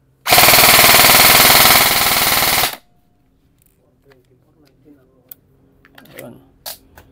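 A Poseidon XQ4 unit test-fires on full auto in one loud, continuous rapid burst lasting about two and a half seconds. It stops abruptly and leaves faint scattered clicks and quiet background sounds.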